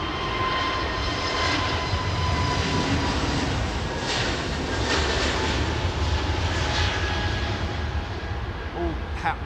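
Airliner engines at Heathrow Airport spooling on throttle, a loud continuous broadband roar with a steady whine, close and sustained throughout with no pauses.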